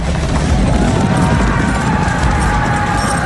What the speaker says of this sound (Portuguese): Os humanos vão a cavalo para a batalha pela primeira vez.